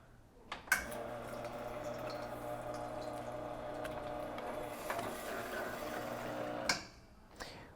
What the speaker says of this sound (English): we're actually going to disconnect the water line here and let it draw the rest of the water in and drain that coffee boiler